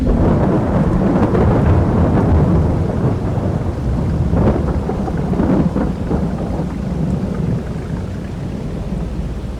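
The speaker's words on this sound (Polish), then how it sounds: "Przerażająca jest ta burza bojowa." Thunderstorm in Farming Simulator 22, with steady heavy rain and wind roaring throughout and several deep thunder rumbles rolling in, loud and close, with no talking.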